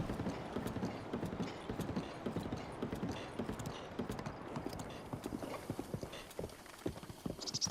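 Horse hooves clip-clopping at a steady gallop-like rhythm in Zelda: Breath of the Wild, continuous and fairly close, with faint game ambience underneath.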